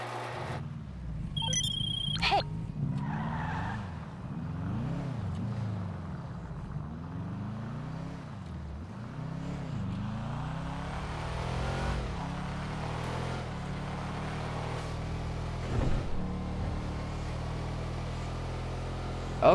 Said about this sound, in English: Let's go test drive this thing.